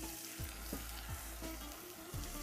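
Chopped onions, peppers, carrot and cabbage fry in a pan with a steady, close sizzle, broken by a few soft scraping stirs of the vegetables, alone without any talking.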